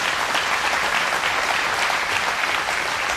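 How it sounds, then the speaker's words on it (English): A crowd gives a steady round of applause at a live event tied to the Missouri State Fair Dahlia Show, dense continuous clapping without speech. "Let's give Jim a round of applause for that accomplishment."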